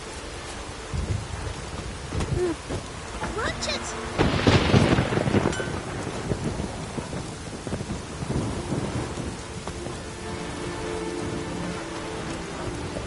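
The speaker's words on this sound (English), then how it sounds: "Oh, raining again." Steady rain pours over a low rumble of thunder that swells and fades in the video game The Witcher 3, with a voice calling out briefly over the storm.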